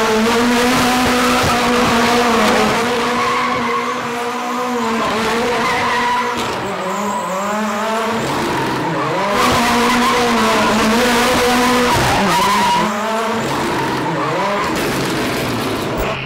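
A rally car is driven hard, its engine revving high with shifting pitch while tires skid and squeal, a loud, continuous performance run with repeated rises and drops in engine tone and no talk.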